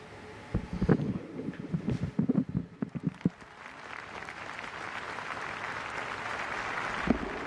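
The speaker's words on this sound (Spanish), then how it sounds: "aplaude las palabras del Santo Padre" An audience at a Tarragona beatification ceremony applauds, first as scattered nearby claps and thumps, then swelling into a distant, steady wash of clapping with wind-like rumble underneath.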